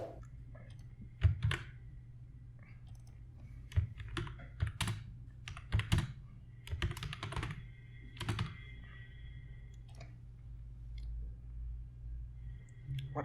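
Keys clatter on a computer keyboard in irregular bursts of close, crisp clicks, broken by short pauses, with a faint voice now and then in the background.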